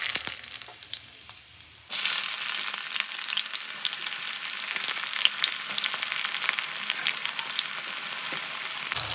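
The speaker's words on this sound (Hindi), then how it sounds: "अब ये जो खड़ा गरम मसाला ये सारा ऐड कर देते हैं।" Whole garam masala hitting hot mustard oil: after a couple of seconds of quieter clatter, a loud, sudden burst of crackling sizzle that stays dense and steady close by.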